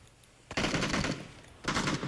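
Two short bursts of rapid automatic gunfire in PUBG, fairly faint and distant, the second burst a little over a second after the first, with quiet background between.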